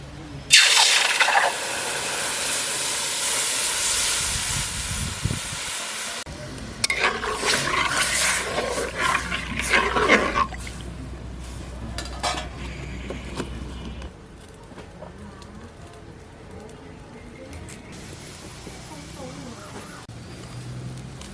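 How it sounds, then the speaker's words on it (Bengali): Coconut milk simmering in a kadai while being cooked down into coconut oil, with a steady hiss and bubbling sizzle. Loud stirring and clatter come early on, and the sound settles to a quieter boil later. "নারকেলের দুধটা এখন কড়াইতে দিয়ে জাল দিতে থাকবো যতক্ষণ পর্যন্ত জল শুকিয়ে তেল বেরিয়ে না আসে।"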